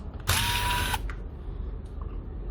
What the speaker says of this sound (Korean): 이렇게 나사 3개를 빼고 메인보드를 위에서 들어서